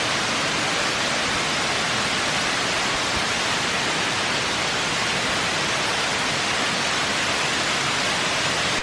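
Kuang Si waterfall near Luang Prabang, Laos, heard from directly above, gives a dense, loud, unbroken roar of falling water that stays constant the whole time.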